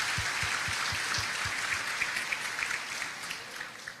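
Church congregation applauding Pastor Ivanildo during a cell-leader training session, a steady wash of clapping with a few low thumps early on, tapering slightly toward the end.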